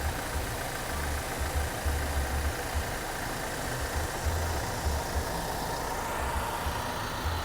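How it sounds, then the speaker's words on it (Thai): A 2020 Toyota Majesty 2.8 Premium van engine idles steadily nearby with a low, even rumble and a faint rhythmic knock, with no voices. "ฟังเสียงเครื่องยนต์ดูความสวยงามของเครื่องยนต์ได้เลยนะครับ"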